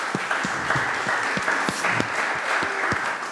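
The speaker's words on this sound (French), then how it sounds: "on peut les applaudir, les remercier." Applause from a small audience at an evening meet-up, quieter individual claps audible as distinct sharp hits within a steady patter.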